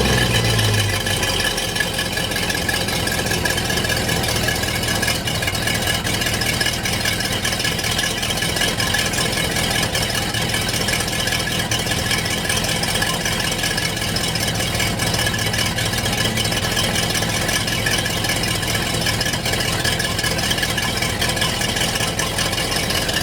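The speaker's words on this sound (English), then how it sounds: "Time to fire up the engine for flushing it." Inboard engine of a 2008 Sea Ray 260 Sundeck boat runs at a steady idle for flushing, a continuous low rumble with faint rattle, close and unbroken throughout.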